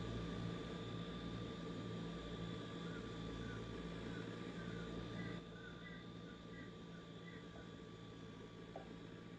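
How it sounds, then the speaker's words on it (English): Fokker F27 turboprop in Microsoft Flight Simulator 2020 powering down on the ground, a steady engine drone and whine that drops to a lower, quieter level partway through, heard alone without talk. "we'll go ahead and power down this aircraft"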